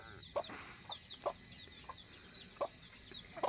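A hen clucks softly in a farmyard, with several short, scattered clucks at irregular intervals over a low background hiss and faint distant bird calls.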